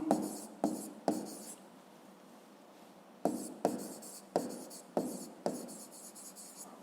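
A pen writing numbers and words for a fifth-grade maths exercise, a series of short scratchy strokes in separate bursts with a quiet gap in the middle, close and soft.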